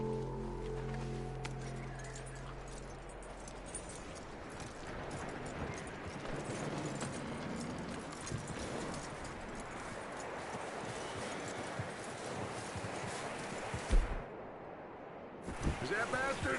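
Horse hooves clip-clop steadily in Red Dead Redemption, a continuous rhythmic trot under a wash of ambient game noise, with a short quiet gap near the end before the footfalls resume.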